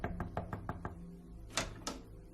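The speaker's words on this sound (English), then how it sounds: "walked up the driveway, and knocked on the front door" Knocking on a front door: a quick run of six sharp raps in a steady rhythm, close and fairly loud, followed after a short pause by two heavier thumps, with no voices.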